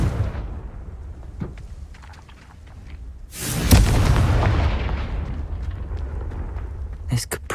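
A Confringo fire spell bursts in Hogwarts Legacy with a sudden loud explosive blast, then a long rumbling roar that fades slowly, and a few sharp magical crackles follow near the end.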